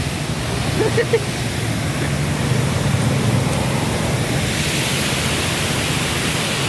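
Athirappilly waterfall roars as a loud, dense, continuous rush of falling water that fills the whole scene without a break, with voices faintly audible beneath it.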